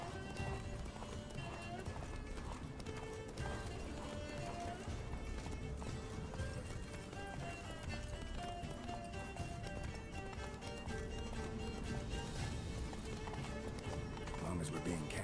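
Roach, a horse in the video game Witcher 3, gallops with a steady rapid clip-clop of hooves under a dense, continuous layer of game music and sound, with occasional whinnies and voices talking over it.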